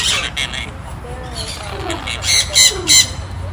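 Parrots squawk at a bird sanctuary housing cockatoos and macaws. Several short, harsh squawks come close together and grow louder toward the end, over a low rumble of background noise.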